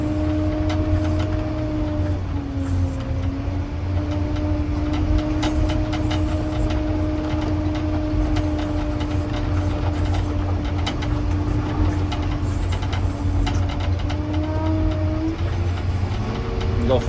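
Motor grader engine drones steadily and loud while grading a base, a continuous low rumble with a sustained whining tone above it and faint rattles throughout.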